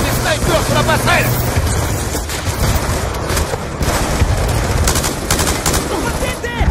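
Dense, loud gunfire fills a battle in Call of Duty Black Ops 2, snipers firing from a walkway amid rapid bursts and booms, nearly continuous throughout, with voices talking under the shooting.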